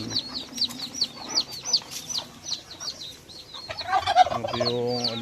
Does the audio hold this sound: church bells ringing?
no